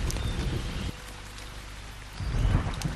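Rain falls steadily in a dense, hissing wash, louder at the start, dipping to a softer patter in the middle, then swelling heavier again toward the end.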